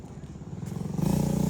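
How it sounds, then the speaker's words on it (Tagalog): A motorcycle approaches along a road, its engine putter building from a low rumble into a louder, closer chugging pulse as it nears. "Tabi ka lang, be. May motor."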